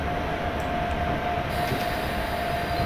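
A Tejas Express hauled by a WAG 7 locomotive in an Indian train simulator game, producing a steady loud rail rumble with a sustained tonal hum and no talking.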